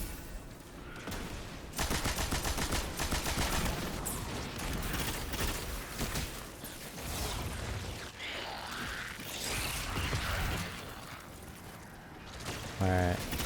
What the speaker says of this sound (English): Machine gun time.